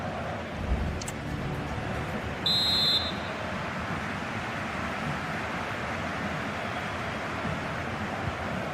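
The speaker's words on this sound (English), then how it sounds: "And that whistle." Referee's whistle blows at a football match, a single short shrill blast about half a second long, cutting through steady stadium crowd noise.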